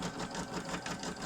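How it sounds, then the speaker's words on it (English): A sewing machine runs a short tacking stitch on a boxy bag, a quiet steady rhythmic whir with evenly pulsing needle strokes heard alone. "you're going to run a single stitch just to tack it in place"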